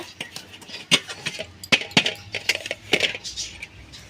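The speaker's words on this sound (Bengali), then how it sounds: "এবার এই থালে উল্টো করে ঢেলে নিব।" A mango cake turned out of its pan onto a plate, heard as a series of sharp metallic clinks and taps spread across several seconds, close by.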